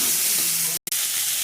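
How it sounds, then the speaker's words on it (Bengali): Onion, garlic and capsicum frying in a wok for pasta, a bright continuous sizzle up close, broken by one brief silent gap. "আমি সব ভেজিটেবলসগুলো এক এক করে দিয়ে দিয়েছি কড়ার মধ্যে, আর এটা ভেজে নেব"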